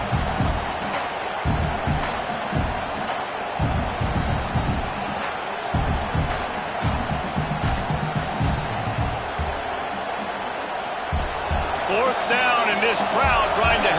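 Stadium crowd noise at a college football game, a steady roar of a large crowd with scattered cheers and whoops that swell toward the end, under a commentator's continuous talk.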